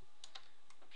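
A few quick computer keyboard keystrokes, a handful of sharp separate clicks spaced through a short quiet moment, close and fairly faint, with no talk.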